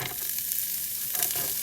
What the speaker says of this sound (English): I'm gonna saute this for about 2 minutes